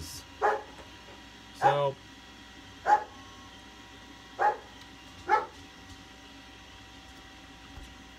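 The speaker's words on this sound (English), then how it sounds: "My dog's barking." A female dog barks five times in separate, evenly spaced sharp barks indoors, fairly close, while a voice briefly speaks.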